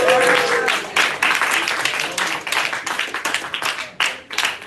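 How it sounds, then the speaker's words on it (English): A small meeting audience applauds a guest speaker, a child's dad, with a brisk round of separate hand claps that is loud at first, then turns looser and more scattered. "Can we get a round of applause?"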